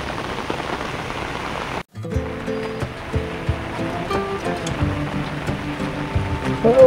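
The Vashishti river in flood at Chiplun in Konkan, Maharashtra, a steady loud rushing roar of churning water, briefly cut off, then continuing with shifting watery surges and scattered tonal clanks.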